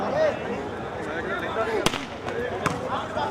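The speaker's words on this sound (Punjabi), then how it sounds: "ਇੱਥੇ ਪਟਾਕੇ ਪੂਰੇ ਪੈਂਦੇ ਆ" Firecrackers burst at a village volleyball tournament in Punjab, two or three sharp cracks standing out over continuous crowd chatter and a voice talking.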